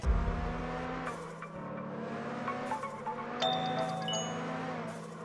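A racing car engine from the drifting video game Absolute Drift drones and revs with shifting pitch, accompanied by a few bright chime-like tones.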